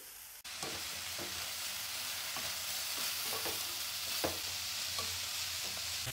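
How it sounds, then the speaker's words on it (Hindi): Onions fry in a pan with a steady close sizzle, a spoon or spatula scraping and clacking through them every second or so, with no voices. "हम प्याज डालने के बाद 3 से 4 मिनट पका लेंगे ताकि प्याज हमारे हल्के से सॉफ्ट हो जाए"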